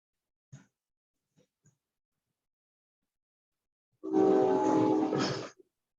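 A train sound effect rolls through with a sustained horn blast lasting over a second, loud and alone after a few faint taps.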